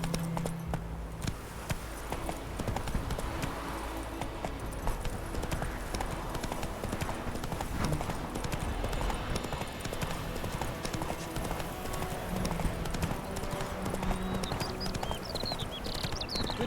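Horse hooves gallop in Witcher 3, a steady rapid clip-clop that runs the whole time under game music and ambience, with a short rider's shout and a faint whinny-like sound near the end.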